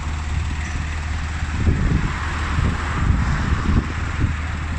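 An Isuzu pickup's diesel engine runs in a steady, low idling rumble, with a constant broadband hiss like wind across the microphone and no voices.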